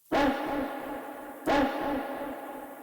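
Processed dog-bark sample built from a woman's imitated woof, two heavily treated bursts with a trailing echo that repeats and fades between them, no other sounds.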